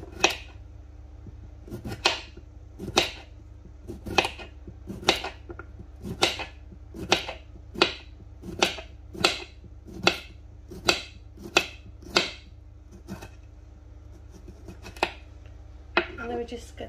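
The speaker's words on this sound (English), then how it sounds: "I'm going to cut it in half, and then I'm going to chop it like this, just very thin slices." A knife slicing a cucumber into very thin slices on a cutting board, sharp evenly spaced chops, about fifteen crisp taps at a steady rhythm, close and clear.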